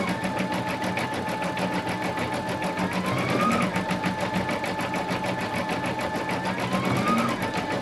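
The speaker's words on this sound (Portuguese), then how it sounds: "E a máquina está fazendo o acabamento ao redor do crivo." An embroidery sewing machine stitches a finishing border around openwork, giving a steady rapid mechanical chatter with a continuous motor hum and a couple of brief rising whines, close and unbroken throughout.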